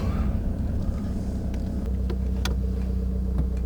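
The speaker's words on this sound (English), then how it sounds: "Just pop the engine off for a moment there, Ray." A car engine idles while the vehicle sits pulled up at the roadside during a driving lesson, giving a steady low rumble that continues evenly throughout, with faint small clicks and no clear speech.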